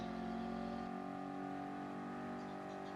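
A car engine in a video game with a 4-speed gearbox drones loudly and steadily, holding a rich, revving tone from start to finish; its deepest rumble drops away after the first second.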